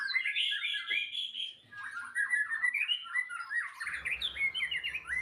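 A white-rumped shama, or murai batu, sings close by in a rapid run of bright whistles, chirps and warbling trills with brief pauses, and a low rumbling hum enters near the end.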